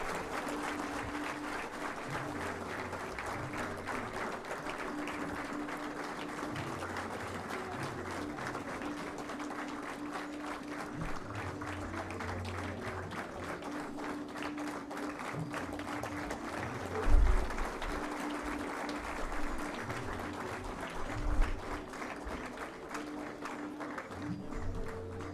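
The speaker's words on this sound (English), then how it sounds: "Let's have a thunderous round of applause." An audience at an Engineer's Day 2018 ceremony applauds in a long, steady round of clapping that stays even throughout, with a couple of louder thumps near the end.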